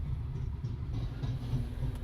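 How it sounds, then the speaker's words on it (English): Two trains passing by, heard as a steady, dense low rumble of rolling rail cars that stays constant throughout without any voices. "2 trains."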